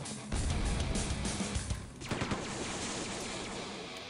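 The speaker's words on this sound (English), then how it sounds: "Where do these explosions I keep hearing?" Explosions and gunfire in the 1997 shooter Quake II burst loudly at the start, then a dense rattle of blasts trails off into a softer rumbling wash.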